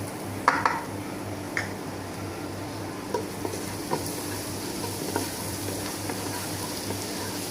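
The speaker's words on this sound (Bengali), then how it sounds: "তেল গরম হয়ে গেছে, আমি রসুন কুচি দিয়ে দেবো।" Minced garlic sizzles steadily in hot oil in a pan, a constant soft crackle with a few light clinks of a spoon or spatula against the pan.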